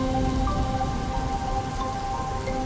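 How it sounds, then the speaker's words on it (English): Heavy rain pours steadily and densely throughout, a constant close hiss of drops with no voices. "the rains intensify"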